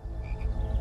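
A brief, loud, dense chorus of frogs croaking, as in a film depiction of the biblical plague of frogs from the Nile in Exodus: Gods and Kings, with low rattling pulses packed together.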